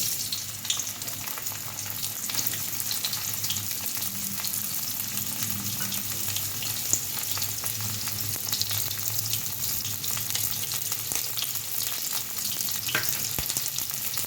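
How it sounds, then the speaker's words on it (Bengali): Cauliflower frying in hot mustard oil in a wok, giving a steady, close sizzle that runs without a break, with occasional small pops and stirring scrapes. "তেলটা গরম হয়ে গেছে, আমি ফুলকপিটা ভেজে নিচ্ছি।"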